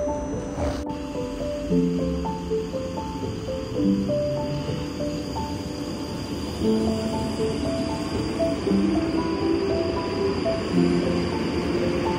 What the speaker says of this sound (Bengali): দেখো সাউথ ওয়েস্টার্ন রেলওয়ে, এখান থেকে ট্রেন ছাড়ে।